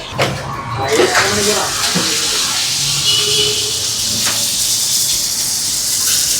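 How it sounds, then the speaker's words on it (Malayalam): Curry leaves sizzling in hot oil at a seafood restaurant kitchen, a steady bright hiss with crackling bursts near the start, continuing under people talking. "ആദ്യം കറിവേപ്പില, എണ്ണ ചൂടായി തുടങ്ങി."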